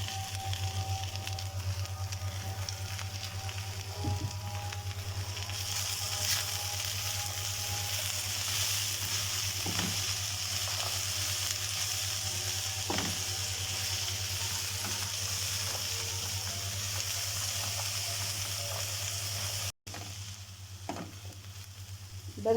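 Chopped peppers fry in a pan with softened, wilted onions, giving a steady, even sizzle throughout, broken by a few faint clicks and scrapes of stirring, with no one talking.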